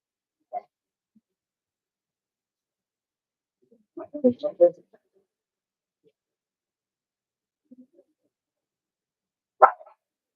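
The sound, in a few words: dog barking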